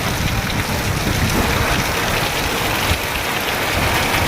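Heavy monsoon downpour driven by strong wind in the Bodeli area of Gujarat, a dense, steady roar of rain that runs loud and unbroken from start to finish with no voices.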